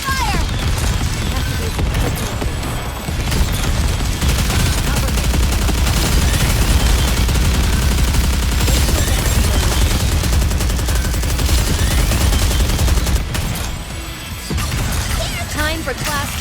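Relentless gunfire from the mobile shooter Goddess of Victory: NIKKE, with rapid automatic bursts, crashes and booms packed together at close range almost without a break, while voices speak over the battle.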